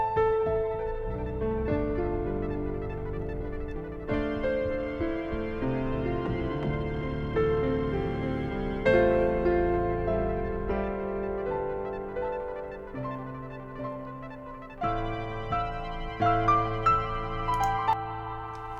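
Recital hall style reverb from the Airwindows kBeyond plugin, heard as a sustained, lush ensemble of tones with long smooth tails blooming and overlapping continuously at steady moderate loudness, with no talking.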